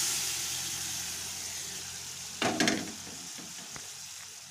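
Chana dal sizzles steadily as it fries in spiced oil in a pan, a close, continuous hiss broken by a brief scraping stir in the middle.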